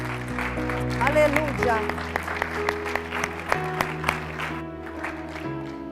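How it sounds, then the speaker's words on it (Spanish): A church congregation applauding during a service, steady clapping running beneath a sustained organ or keyboard chord and a voice speaking over it. "Denle un aplauso a Dios por ello."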